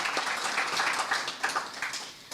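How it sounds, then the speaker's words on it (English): Attendees at a Caribbean business event applaud in a dense, even patter of clapping, moderately loud and continuous across the short stretch. "I think deserves a huge round of applause and big up to Dr."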